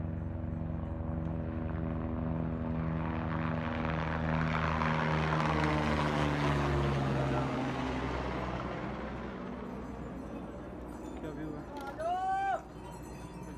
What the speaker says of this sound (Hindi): यहाँ पे हर एक 5-10 मिनट में हेलीकॉप्टर आ रही है,